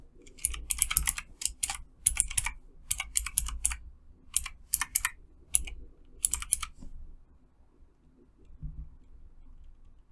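Quick bursts of typing on a computer keyboard while entering login credentials, clustered keystrokes with short pauses, fairly close and quiet, ending in near silence.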